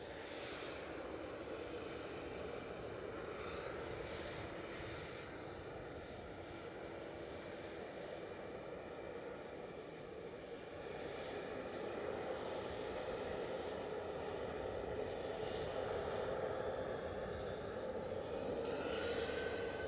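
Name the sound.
EasyJet airliner departing for Bristol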